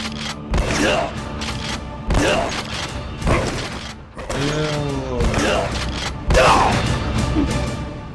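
Gunfire in an animated Terminator versus RoboCop fight: a run of sharp shots and heavy thuds among mechanical clanks and whirring, mostly under a voice talking.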